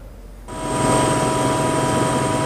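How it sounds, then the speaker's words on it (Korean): A news helicopter flies over the Yeongdong Expressway during the Lunar New Year holiday exodus. Its steady, loud rotor and engine roar swells in after a quiet half-second and then holds close and constant, with no talk. "헬기로 둘러봤습니다."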